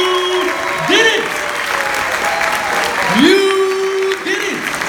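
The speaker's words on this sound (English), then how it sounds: "give yourself a roaring round of applause because you did it!" A graduation audience applauds and cheers continuously and loudly, with a voice rising briefly over the clapping crowd.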